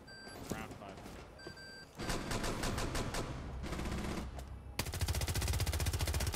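Gunfire in the video game Rainbow Six Siege: scattered shots, then sustained rapid automatic bursts under game noise, loudest and most continuous toward the end, with players talking over it.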